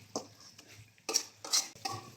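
Fried taki fish being stirred into masala in a pan in a bachelor's kitchen, a few soft scraping and clinking strokes of a spoon against the pan, quiet and spaced out over about two seconds.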